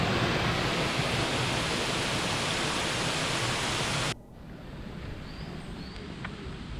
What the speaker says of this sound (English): Under the archway there's a small waterfall.